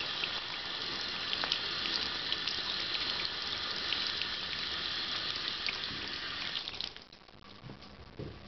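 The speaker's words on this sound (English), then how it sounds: "Now all we gotta do is rinse." Water runs steadily from a tap while a pair of pants is rinsed, giving a loud, constant splashing gush that thins out and turns to scattered drips near the end.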